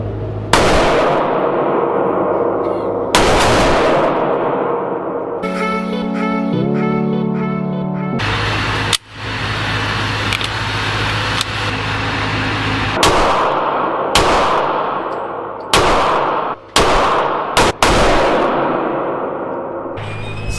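An AR-15 rifle and a Desert Eagle pistol firing: loud, close single shots spaced a few seconds apart across the stretch, each a sharp crack with a short decaying tail, with a ringing tonal passage between the early shots.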